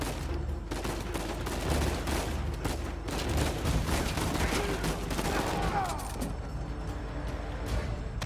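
Dense, sustained gunfire in the video game Uncharted 4, rapid overlapping shots and bursts filling the scene with a steady battle din.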